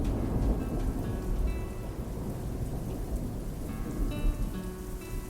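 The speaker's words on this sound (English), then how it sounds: "Thunder cracked across the plains, and a heavy rain began to fall." A thunderstorm on the open plains: dense heavy rain roars steadily, and low thunder rumbles underneath throughout.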